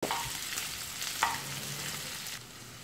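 Bacon and calabresa sausage sizzling in a pan, a soft steady crackle with a few sharper pops and brief stirring scrapes, fairly quiet and close with no voices.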